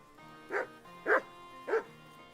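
Three distinct dog barks in Kingdom Come Deliverance 2, evenly spaced about half a second apart, moderately loud over a quiet game background.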